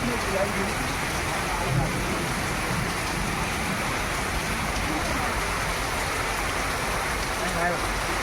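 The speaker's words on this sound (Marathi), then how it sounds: "पाऊस जोरात सुरू झालेला." Heavy first monsoon rain in coastal Konkan, falling with stormy wind: a steady, dense roar of rainfall with no break and no distinct drops, loud throughout.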